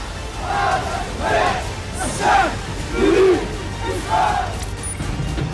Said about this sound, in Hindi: सड़कों पर बहुत बड़ी तादाद में फिलिस्तीन समर्थकों की भीड़ उमड़ी